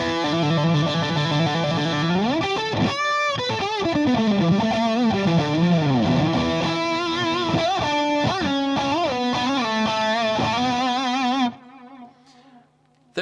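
Crunchy, distorted electric guitar riffs through a Danelectro Billionaire Cash Cow overdrive pedal, with slides and bends, loud and continuous, before the sound abruptly stops and a faint hiss remains.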